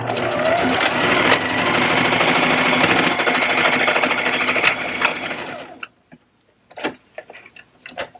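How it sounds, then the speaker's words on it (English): A sewing machine runs fast and loud for several seconds with a rapid mechanical chatter, then stops, followed by a few soft handling clicks and taps. "I'm going to bring our sewing machine back over."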